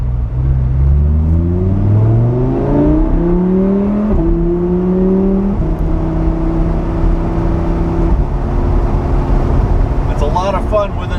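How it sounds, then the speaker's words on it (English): A 2016 Lamborghini Huracan Spyder on its stock exhaust revs up through rising gear pulls, the engine note climbing, dropping and climbing again, loud and close throughout before settling into a steady cruise drone. "Terrific job of exhaust tuning from a stock exhaust"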